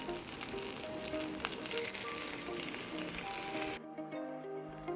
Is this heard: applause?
no